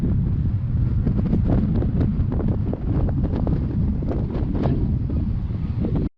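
Strong wind on the open Kansas plains outside Dodge City buffets the microphone in a loud, continuous, rumbling roar with gusty flutters throughout.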